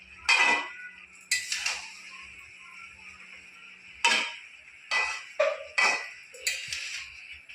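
A cooking pot of bottle gourd greens is stirred and covered, heard as a series of separate metallic clinks and clanks of a utensil against the pot, spaced irregularly over a quiet background.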